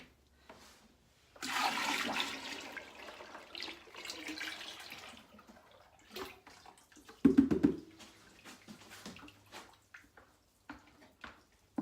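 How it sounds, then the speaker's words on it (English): Lye solution poured into blended oils for cold-process soap makes a splashy liquid pour lasting a few seconds, followed by quieter clinks and handling sounds. "So now that they're all blended, we're going to add the lye."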